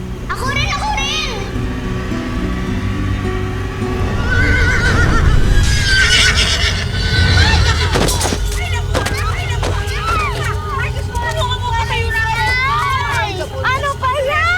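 A horse whinnies loudly at the start, then hooves clop amid a noisy crowd of chattering children and adults, with more neighing and shouting throughout.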